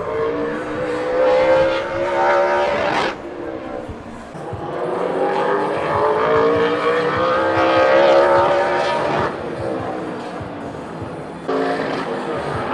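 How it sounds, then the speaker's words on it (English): A drag racing car revs and roars on the other track of a dragstrip, a loud sustained engine drone that swells and cuts off in bursts, heard from a distance under crowd and ambient noise. "I just want you guys to hear this car over there."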